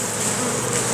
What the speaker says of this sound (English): So, got the bees. I'm just going to shake them right into the box.